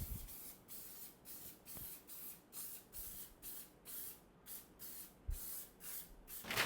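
Cooking oil spray hisses onto the paper meant to top a batch of vanilla marshmallows, coming in many short, soft, rhythmic bursts close by with brief gaps between them.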